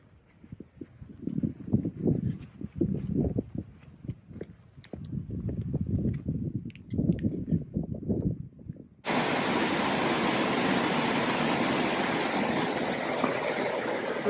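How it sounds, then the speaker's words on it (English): Footsteps thud along a trail before the steady, broadband rush of a small waterfall at Stone Mountain takes over, loud and constant with no voices. "there's a spur trail to this little waterfall"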